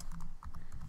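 Rapid typing on a computer keyboard while entering a command-prompt command, a close, steady run of light key clicks with a brief pause partway through.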